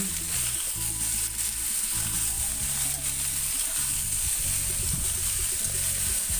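Yellow pumpkin chunks stirred in a hot pan, giving a steady close sizzle and frying hiss throughout, with low scraping and stirring noises underneath and no talking.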